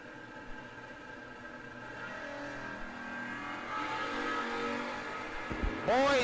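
Chevelle drag cars at a no-box race idle and rev in the lanes, engine drone building gradually before a sharp, loud revving burst at the very end; a faint voice sits beneath it.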